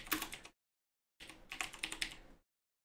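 Rapid typing on a computer keyboard, close and clear: a short burst of clicking keys, a brief pause, then a longer run of quick keystrokes.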